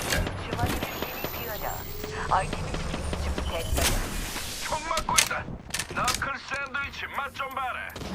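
Gunfire from Apex Legends on PS4, a battle royale match with repeated bursts of shots and impacts, some sharp and close, others scattered, mixed with game effects and voices talking throughout.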